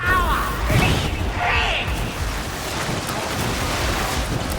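A psyker's lightning attack in the Darktide video game crackles and hisses continuously, with bursts of electrical noise over a dense wash of combat sound.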